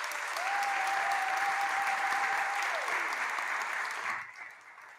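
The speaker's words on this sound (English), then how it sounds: "Can we give our speakers a round of applause?" A dense, steady round of audience applause for panel speakers at an event at the Louvre carries on loudly for about four seconds, then thins out and fades, with no clear speech.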